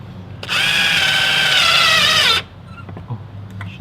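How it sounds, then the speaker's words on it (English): A power drill bores into a Mugen-style front lip on a Honda Del Sol, whining at a steady pitch in one close, loud two-second burst that slows briefly before stopping, followed by light handling noises. "Wanna drill this one a bit more then?"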